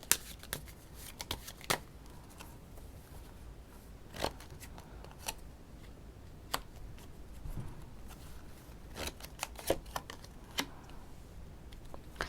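Tarot cards shuffled and drawn by hand, a series of sharp, dry riffling snaps and flicks at irregular intervals over a quiet room background, close and fairly faint.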